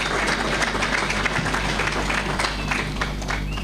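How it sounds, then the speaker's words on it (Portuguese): Audience applause at a political party gathering, a dense, steady wash of clapping from a crowd, continuous and fairly loud throughout. "a salva de palmas pode ser"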